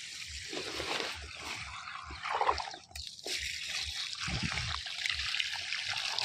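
Water from a submersible pump gushes steadily into a village field of coriander and ridge gourd, a loud continuous rushing with a low rhythmic thumping underneath.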